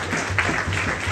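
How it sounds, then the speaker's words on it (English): An audience at a Hindu yagna session claps for the Doobay family, a brief burst of moderate applause with a low hum underneath. "Please give the Doobay family a nice round of applause."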